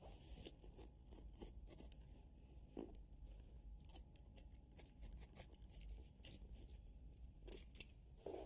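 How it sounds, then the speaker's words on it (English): A carpet tile is cut by hand along a marked circle over cardboard, giving quiet, close, irregular snips and fibrous crunching cuts that come in short bursts. "now that my circle is marked, I'm ready to cut the hole"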